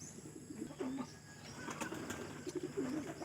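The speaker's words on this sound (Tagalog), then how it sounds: "Yan, malapit na bumaba mga kalapatids." Racing pigeons circling and coming down to land during a training release, soft cooing and occasional wing flutters close by, with faint background chirps.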